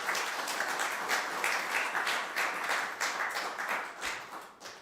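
A tech forum audience applauds a panelist, a dense sustained wash of many hands clapping throughout, fairly even and tapering slightly at the end, with no voices over it.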